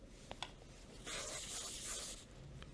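Chalk-style strokes on a PITATA smart chalkboard, a couple of quick taps and then a sustained scratchy rub as a letter is drawn, close and fairly quiet.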